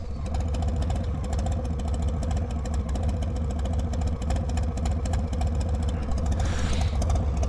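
A Harley-Davidson Street Bob 114 motorcycle runs steadily after cam removal, a loud, close, low lumpy rumble with an uneven pulsing beat throughout.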